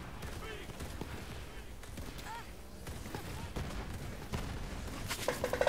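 Gunfire and explosive bursts from the video game Borderlands 3 rattle along in scattered volleys, fairly quiet and mixed with game effects and a player's speech.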